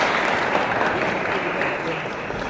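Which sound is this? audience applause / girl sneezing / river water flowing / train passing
audience applause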